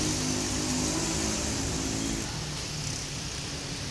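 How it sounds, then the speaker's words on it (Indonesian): A Haryanto bus pulls away from a busy terminal, a low engine rumble with a steady tonal drone that drops off partway through, heard against broad outdoor background noise. "Setelah selesai mengisi penumpang, bus Haryanto akan segera melanjutkan perjalanan"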